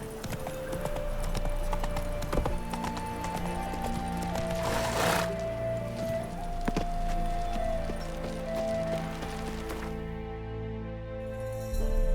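Horse hooves clip-clop steadily in The Witcher 3, a continuous run of hoofbeats over game music and ambience, with an occasional whinny.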